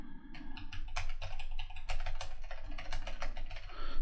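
Close keystrokes clatter on a computer keyboard in rapid, uneven bursts of clicks with short pauses, typing into a terminal window, and no voices.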